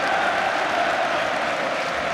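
Stoke City football crowd at home against Manchester United cheering and applauding loudly, a dense, steady wall of clapping and roaring voices filling the stadium without pause.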